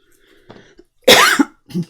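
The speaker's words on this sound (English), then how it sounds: "Once you start videoing, you get a cough." A single sharp cough, close by, followed by a short throat-clearing sound, with quiet moments around it.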